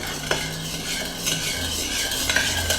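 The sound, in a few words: stirring soy sauce marinade for spam musubi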